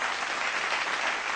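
A TV show studio audience applauds for a contestant, giving a dense, steady wash of clapping at a strong level throughout with no pauses.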